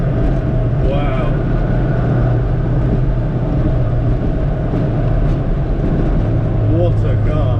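Supercharged 998cc Mini engine pulling hard from inside the car: a loud, continuous drone and cabin rumble with road noise throughout, and a voice talking over it.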